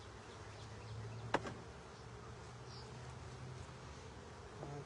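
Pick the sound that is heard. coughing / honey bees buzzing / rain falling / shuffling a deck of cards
honey bees buzzing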